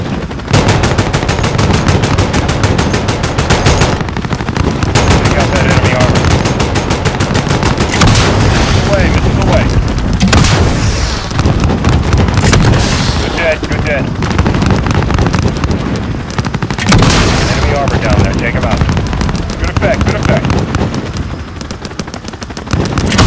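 Sustained gunfire in the video game Call of Duty MW4 sounds as dense bursts of rapid machine-gun shots and heavier blasts. The firing is loud and nearly continuous, with brief pauses and faint radio voices underneath.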